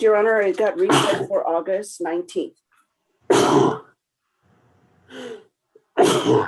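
Sharp sneezes burst out during a courtroom hearing, several loud explosive bursts separated by pauses, with someone speaking before them.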